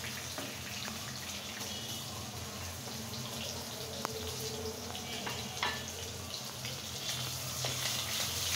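Potatoes frying in hot oil in a home kitchen after fish has been fried, a steady close hiss and sizzle with occasional crackles and small clinks, no talk.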